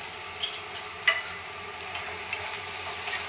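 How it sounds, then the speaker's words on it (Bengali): Sliced large onion and slit green chillies frying in hot oil with a steady soft sizzle, punctuated by a few light clicks and scrapes of stirring, alone without voices. "এরপর আমি এর মধ্যে দিচ্ছি স্লাইস করে কেটে রাখা একটা বড় সাইজের পেঁয়াজ।"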